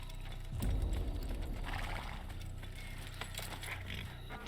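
Horse hooves clip-clop in the Assassin's Creed video game, a brief burst of footfalls with a possible whinny early on, fairly quiet beneath the game's ambient sounds.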